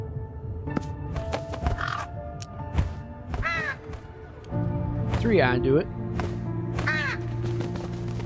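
Crows caw in the horror game True Fear Forsaken Souls 3, several harsh, rasping calls in the middle section with game thuds and ambient drones, while someone talks over parts of it.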